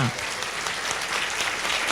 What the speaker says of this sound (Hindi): ताली बजाएंगे जोर से हालेलुया।